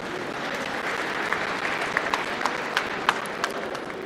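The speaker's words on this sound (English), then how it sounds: "can we just give a final round of applause to our winning categories?" An audience at a formal public service day ceremony claps in steady, dense applause for several seconds, with individual sharp claps popping out of the sustained crowd sound.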